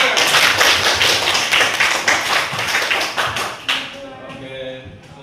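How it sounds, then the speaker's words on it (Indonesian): Classroom audience claps hands in a brisk burst of dense clapping that fades out, leaving scattered final claps and a voice at the end. "Oke, baik, tepuk tangan."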